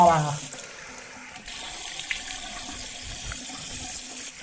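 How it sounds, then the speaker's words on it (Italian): Fresh water runs from a bathroom tap while a man rinses his face after shaving, with a steady close rushing stream and some soft splashing. "Tempo di sciacquarmi la faccia, così vi guardo negli occhi."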